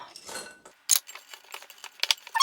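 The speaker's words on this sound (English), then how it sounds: "I am going to add the chocolate chips into here and mix it all up." Keto chocolate chip cookie dough, made without almond flour, being stirred as chocolate chips are mixed in: close, quiet scraping with scattered sharp clicks and taps of a utensil against the bowl.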